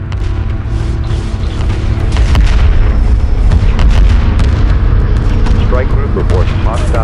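Heavy weapon fire and explosions in a space battle from Homeworld 2, a loud continuous barrage of booms and blasts with overlapping bursts throughout, joined by radio-style voice chatter.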